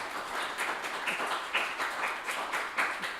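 A conference audience gives a quick round of applause to a fundraising panel: a steady wash of many hands clapping at once, fairly faint and even, slightly distant, without voices.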